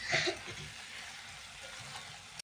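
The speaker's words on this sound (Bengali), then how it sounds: "রসুন বাটাটাকে আমি একটু ভেজে নিচ্ছি।" Garlic paste fries in a pan with a faint, steady sizzle, slightly stronger at the start, and a soft stir or scrape near the end.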